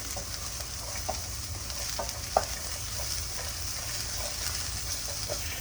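Vegetables stir-fried in a pan for hot and sour soup, a soft continuous sizzle broken by scattered scraping clicks from stirring, heard close and alone.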